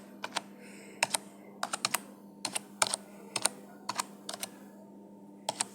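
Typing on a computer keyboard while entering a book title into library cataloguing software: quick bursts of close, crisp key clicks in uneven clusters over a steady low hum, with no talking.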